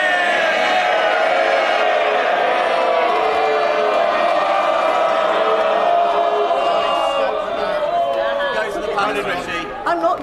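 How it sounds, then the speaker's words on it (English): MPs in the House of Commons cheer and clamour loudly, a sustained roar of many voices that swells and then begins to break up into shouts near the end. "This is the moment for cheering."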